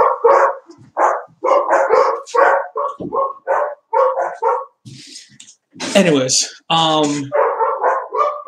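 Several dogs bark in quick close bursts, loud and overlapping, mixed with some yips, while someone talks steadily over them.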